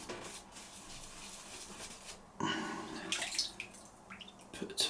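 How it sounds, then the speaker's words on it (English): A small amount of tap water runs onto a shaving brush, with faint splashing and trickling. It gets louder midway in short bursts and plays alone without speech. "Put a tiny bit of water in the old brush."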